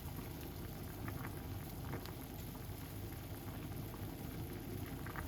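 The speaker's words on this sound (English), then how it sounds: "Just because it is boiling at the moment, but it will just calm down." Water for ginger lemon tea boils vigorously in a pot, a dense, continuous bubbling roar with crackling pops, close and steady throughout.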